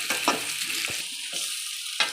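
Carrot and onion stir-frying in a pan for fried rice, a steady oily sizzle broken by a few sharp scrapes and taps of the stirring spoon.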